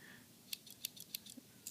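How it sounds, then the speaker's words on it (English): Spring-loaded scissors on a Victorinox Swiss Champ multi-tool make about half a dozen crisp, quick snips in an uneven rhythm, close and quiet, with no talking. "Next we have the very important scissors."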